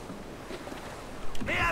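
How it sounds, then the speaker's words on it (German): Stiff wind gusting around a schooner at sea in Assassin's Creed IV: Black Flag, a steady low rush of air and water with a louder gust and hiss of spray toward the end. "Es weht ein steifer Wind."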